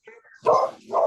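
A single dog gives a short, close two-part bark indoors, loud against a quiet background.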